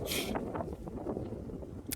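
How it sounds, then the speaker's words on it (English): Wind gusts buffet the microphone outdoors by a lake, a steady low rumble with a brief hissy burst at the start and again at the end. "It's kind of windy out here today."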